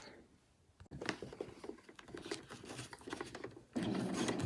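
A sewing machine stitches around the outside edge of a cushion cover, a close, continuous whirring rattle that grows louder and steadier toward the end, after a brief quieter start.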